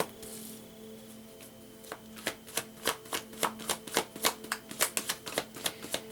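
Tarot cards are shuffled close by in a rapid run of crisp, rhythmic flicking riffles that begin softly and then repeat steadily with no talk.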